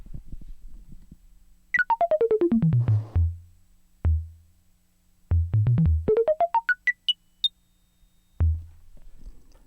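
Zorx ribbon controller driving a modular synthesizer through a 281 envelope, 292 and mixer: bursts of rapid pitched blips sweeping down then up a scale, separated by low thumping tones, clear and alone.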